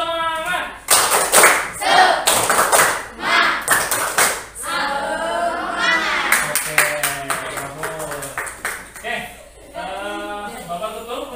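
A group performs a rhythmic cheer clap at a teachers' coaching workshop session, with sharp, loud bursts of synchronized claps and thumps in patterned groups, mixed with voices chanting or talking over and between them.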